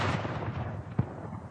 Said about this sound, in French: des coups de canon retentissent